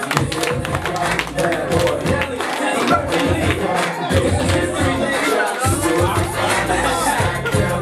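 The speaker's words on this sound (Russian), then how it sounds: "давайте их встретим, тоже аплодисменты, им будет приятно" Wedding guests applaud relatives arriving late to the celebration, with steady clapping from a crowd in a hall while chatter and voices carry over it.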